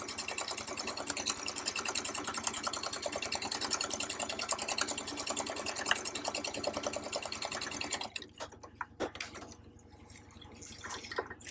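A sewing machine stitches along the outer edge of paper with a fast, even mechanical whirr, then stops and leaves a few quieter clicks and handling sounds.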